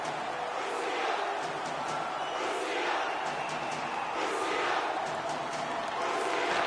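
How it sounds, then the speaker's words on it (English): A home crowd in a PS4 hockey game roars to its feet, a dense, loud wash of cheering that stays sustained and swells in waves throughout. "The home crowd jumps to their feet."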